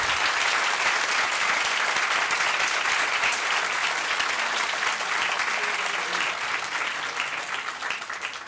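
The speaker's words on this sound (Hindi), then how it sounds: "इनके लिए एक जोरदार ताली" An audience claps steadily for the women plaintiffs in a case over the worship of Maa Shringar Gauri at Gyanvapi, Kashi. The dense, even clapping lasts about eight seconds and thins slightly at the end.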